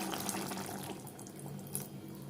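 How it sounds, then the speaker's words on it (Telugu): Water pours from a tap into a cooking pan while mushroom fry is being made, a steady broadband splashing stream that holds constant for a couple of seconds, close and moderately loud with no talk. "ఇప్పుడు కొంచెం వాటర్ కూడా వేసుకోవాలి."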